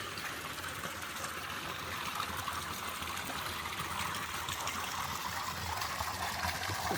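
Fresh water flows steadily through the ponds of a rainbow trout farm and restaurant, making an even, unbroken rush that stays close and constant throughout.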